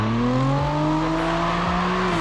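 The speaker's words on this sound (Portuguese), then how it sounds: "Ô Edu, você tá acelerando demais." A car's engine revs hard and climbs steadily while drifting in the CarX Drift Racing 3 video game, a loud sustained whine that rises in pitch, with a couple of brief dips as if shifting, and no talking.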